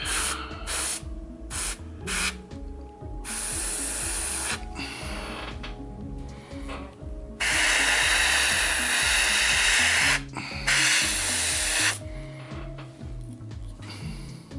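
Airbrush spraying paint onto a Kingdom Death Dragon King miniature, close hissing bursts of varying length that stop and start repeatedly, with a faint mechanical hum running underneath.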